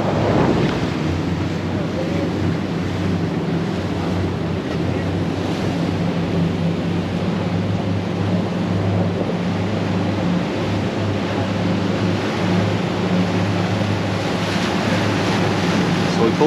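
Strong wind buffets the microphone over a steady low engine drone and rushing waves aboard a 26-foot CCB 264HC hybrid catamaran at a Miami poker run, loud and continuous from start to finish.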